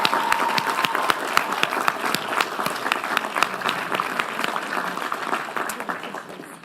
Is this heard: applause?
yes